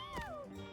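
A cartoonish cat meows once in the Mewgenics video game, a short, clear gliding cry sitting over quiet game background sound.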